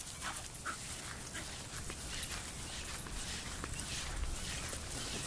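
A chihuahua pants softly with faint whimpers, close but quiet over steady background noise, with a scuffle of footsteps.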